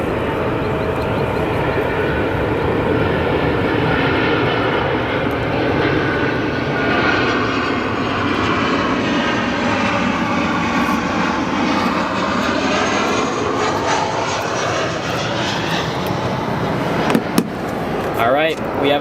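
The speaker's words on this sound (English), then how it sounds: "This next arrival, United Airlines 737 from Columbus" A United Airlines Boeing 737 arriving from Columbus roars steadily for the whole stretch, its jet engine noise broad and sustained at moderate distance, ending with a few faint knocks.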